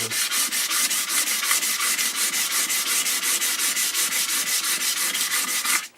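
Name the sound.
sanding a wood veneer TV cabinet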